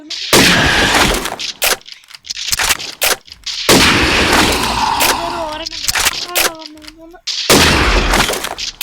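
Gunfire in the hunting video game Dino Hunter King: loud broadband shots come in rapid bursts separated by short pauses, with someone talking over and between them.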